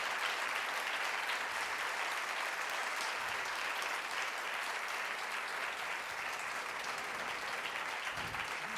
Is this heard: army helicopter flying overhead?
no